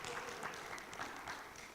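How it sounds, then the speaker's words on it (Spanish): Applause from a church congregation, a brief, steady wash of many hands clapping at once, heard somewhat distant and fairly quiet. "Un aplauso al Señor por esa palabra."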